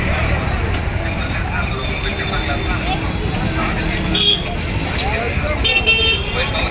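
Dense road traffic near a busy Chennai market hums continuously, with car horns tooting now and then over the engine noise while a person talks.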